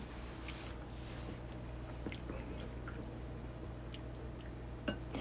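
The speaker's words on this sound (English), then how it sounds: "I'm adding the starter to the water, and I'm going to stir that until it becomes a milky consistency" Sourdough starter stirred into water in a bowl, soft close wet squishing and dripping with occasional small clinks against the bowl over a low background hum.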